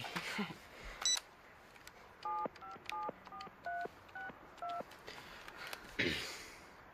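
Telephone keypad tones as a number is dialed for a prank call, about nine short evenly spaced DTMF beeps in a steady rhythm, close and clear, with brief handling noise before and after.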